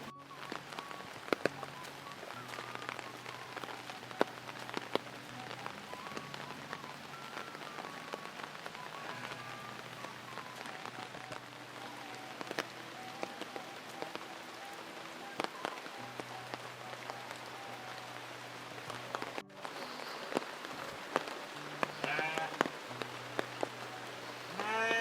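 Heavy rain pours steadily over a village, a dense continuous hiss of drops on roofs and ground, with a faint bleat and a soft low hum far in the background.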